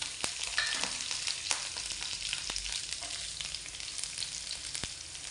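Hot oil tempering coconut pieces, shallots, dried chillies and curry leaves for a meat curry, a steady close sizzle with scattered crackles and occasional stirring clicks, heard alone without talk.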